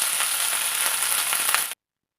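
Curry leaves hit hot oil with a loud, steady sizzle and crackle for nearly two seconds, broadband frying hiss with small pops throughout, then an abrupt cut to silence; no voices.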